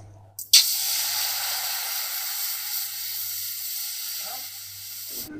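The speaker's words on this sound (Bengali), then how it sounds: "এবারে কড়াইয়ের মধ্যে দিয়ে দেব আমি জল।" Water poured into a hot wok after cumin seeds were fried, giving a sudden loud hiss that settles into a steady steaming sizzle and fades slightly over several seconds, with no talk.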